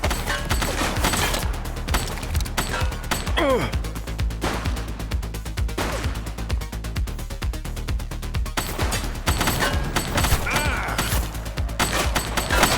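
A shootout in The Precinct video game: dense, loud gunfire pours on almost without a break, rapid bursts and single shots piling over each other, with voices mixed into the din.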